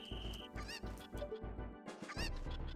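Chicken clucking in a Zelda video game, short fowl-like calls mixed with game sounds and music, fairly loud throughout.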